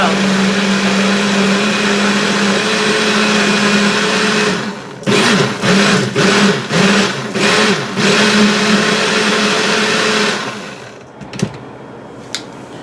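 A Ninja blender runs with a loud, steady motor whine while blending green and red peppers and cilantro for a marinade, then stops and pulses in several short bursts before falling quiet, with a faint clack at the end.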